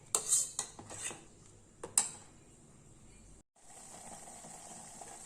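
Sweet red rice pongal stirred in a pot, a few metallic scrapes and clinks of a spoon against the vessel early on, then a quiet steady hiss of cooking, close and fairly faint.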